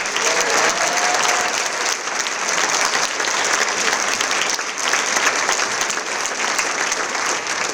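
Sustained applause from a large room of guests at an awards luncheon honoring award recipients, a steady dense wash of many hands clapping for the full length, loud and continuous with a brief dip near the middle.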